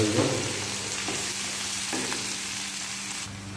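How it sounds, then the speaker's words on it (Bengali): Onions and curry leaves frying in a pan for an egg masala, a soft, steady sizzle with occasional stirring scrapes and taps, fairly quiet and continuous with no talk. "কারি পাতা দিয়ে দেবো, আবার পেঁয়াজগুলো ভাজবো ভালো করে"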